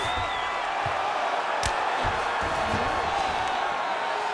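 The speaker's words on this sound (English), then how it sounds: "you heard the crowd pop after that grueling crowd battle" A UFC 5 arena crowd roars in a steady, dense wash of cheering that never lets up, with a few brief sharp hits and thuds rising out of the noise.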